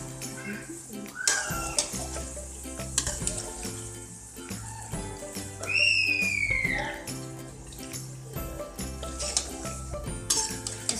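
Chicken fries with onions in a karahi, a continuous sizzle broken by clinks and scrapes of a spoon stirring against the metal pan.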